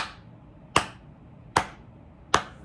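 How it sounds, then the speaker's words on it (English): Hands clap three times, evenly spaced: sharp, crisp single claps about 0.8 seconds apart, close by and standing clearly above a quiet background. "Master is clapping,"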